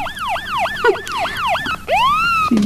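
A police car siren wails loud and close, its rising-and-falling tone repeating in quick even cycles before stretching into one long sweep, with no talking.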